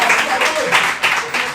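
A church congregation claps together in a brief burst of applause, with voices mixed in, loud and close.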